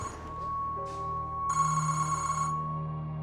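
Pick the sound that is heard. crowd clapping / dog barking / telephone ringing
telephone ringing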